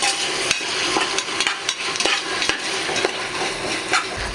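Onions with shallots, ginger, garlic and green chilies sauté with salt in a pan for a roasted-coconut pork curry, giving a steady close sizzle broken by regular spatula scrapes and clinks, with no talk.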